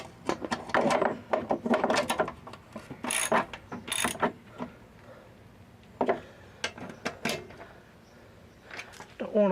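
Ratchet tightening bolts on a Toro Personal Pace Model 20017 mower during an oil leak and pulley repair comes through as several short bursts of clicking separated by pauses, with someone talking in between.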